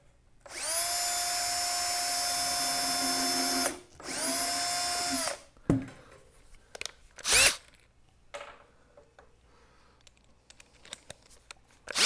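A power drill drives 1.25 inch drywall screws into tool cart shelf runners in two long, loud whining runs, followed by short bursts and clunks of handling as the work continues, with no talking.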